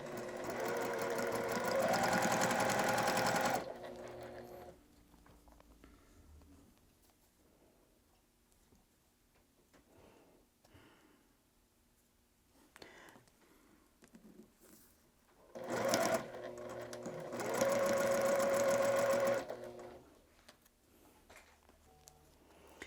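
A sewing machine stitches quilt block pieces in two loud, close bursts of rapid rhythmic clatter a few seconds each, with quieter handling noises between them.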